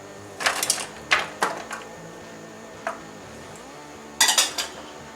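Chopped red and green peppers drop into a cooking pot in several clattering bursts, with light metallic knocks and rustles between them, close and moderately loud, no talking.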